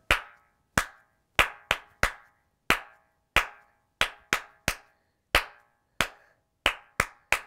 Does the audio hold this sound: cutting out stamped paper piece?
no